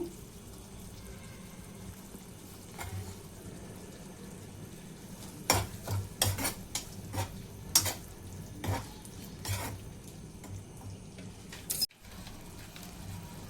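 Chicken liver tawa fry being stirred and mixed with curd, kasuri methi and garam masala, soft sizzling under a series of sharp spatula scrapes and clinks against the pan, close by with short pauses.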